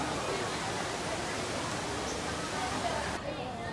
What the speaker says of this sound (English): So this is the bottom of the waterfall.